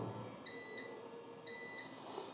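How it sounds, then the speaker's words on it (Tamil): A Microtek UPS battery backup gives two short, faint electronic warning beeps about a second apart in an otherwise quiet room. "இப்போ வந்து பார்த்திங்கன்னா நம்மளுக்கு பீப் சவுண்ட் இந்த மாதிரி வரும்."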